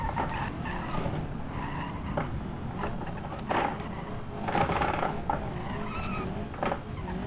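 A car in a driving video game, an Ibishu Covet, runs a victory lap after suspension tests, its engine droning under repeated tire skids and squeals, moderately faint and continuous.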